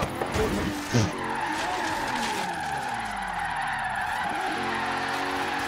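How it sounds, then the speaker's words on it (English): Regalia drifting in Forza Horizon 3, tires squealing in a long sweeping skid over a revving engine after a clutch kick, loud and close, with a voice briefly speaking underneath. "It's like zero steer drifting"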